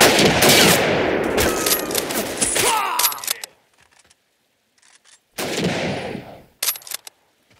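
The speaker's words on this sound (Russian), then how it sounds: "Не прекращать стрельбу!" Rapid bursts of machine gun fire in the Insurgency mod Dark Rising Armenian Insurgency, loud and dense for about three seconds, then a near-silent gap with a few faint pops before another burst of automatic fire.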